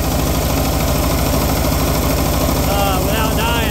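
A DIY open-source 10HP diesel engine driving a 5kW generator idles at its lowest speed, around 1800 rpm. It gives a loud, close, evenly pulsing chug throughout, with a brief voice near the end.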